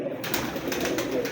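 Soft, low cooing from high-flyer breeder pigeons murmurs steadily beneath a rustling, noisy background, with a few faint higher chirps; no one speaks.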